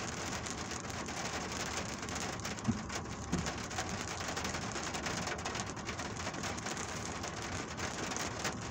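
Steady rain in Riyadh pattering densely on a surface, a constant close hiss of drops with no voices.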